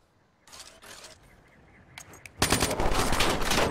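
Video game gunfire, a few short bursts and scattered clicks at first, then a loud sustained rapid volley that continues to the end.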